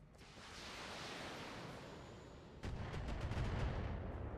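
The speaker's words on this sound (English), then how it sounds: "I'd appreciate less missile strikes, though." Missile strikes pound the field in a mech combat video game set in a brutal Flashpoint career mission. A steady broadband roar gives way to a heavier, louder barrage of repeated blasts and thuds.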